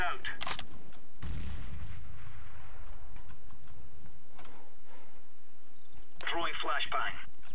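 A grenade detonates in a tactical shooter game, a loud, booming blast with a decaying low rumble, amid other sharp game sounds and bursts of radio-style voice chatter.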